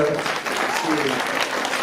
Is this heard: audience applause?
yes